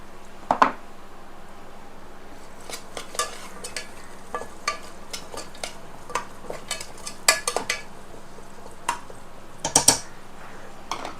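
Coconut and onion being sautéed in a pan, heard as quiet frying with repeated scraping and clinks of a utensil stirring against the pan at irregular intervals.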